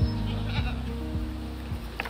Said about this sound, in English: You're looking at Arapawa goats, one of the rarest breeds of goats in the world.